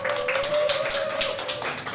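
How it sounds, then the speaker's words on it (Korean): An audience at the Goesan World Organic Industry Expo claps to welcome a guest on stage, a brief patter of applause under a sustained tone and some voices. "그냥 아주 뜨거운 환영으로 그러면 우리 줄리아 불러보도록 할게요. 네, 모시겠습니다. 큰 박수 부탁드릴게요."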